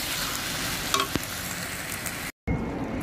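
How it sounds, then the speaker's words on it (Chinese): Rice noodles stir-fried with bean paste crackle and hiss in a hot wok, a dense close sizzle with a couple of scraping tosses, briefly cut to silence near the end. "我们就把米粉进去翻炒一下行了"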